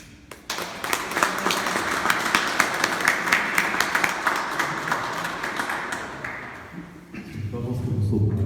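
Sustained audience applause fills a French parliamentary inquiry commission session on chlordécone, a dense, steady clatter of many hands lasting several seconds before it fades and a voice begins.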